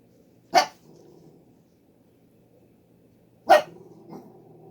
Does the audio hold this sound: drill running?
no